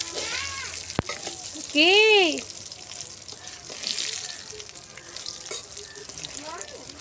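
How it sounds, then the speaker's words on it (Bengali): Eggplant slices fry in a pan over a low flame, giving a steady soft sizzle with the occasional clink or scrape. A voice speaks briefly above it. "আমি জ্বালা আস্তে করে দিয়ে বেগুনগুলো ভাজছি"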